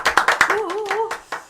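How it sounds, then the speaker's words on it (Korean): A handful of sharp hand claps mark the start of a Korean history podcast, spaced irregularly and mixed with a brief spoken voice between them. "박수"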